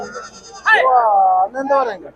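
Female sheep at a livestock market in Chitradurga bleating close by, one long wavering cry followed by a shorter second bleat, loud and clear.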